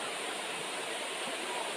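The Panicuan River in Bicol flows in a continuous, even rush of water, a steady broadband hiss close by with no talking over it.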